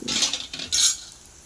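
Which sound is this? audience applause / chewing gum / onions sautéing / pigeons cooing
onions sautéing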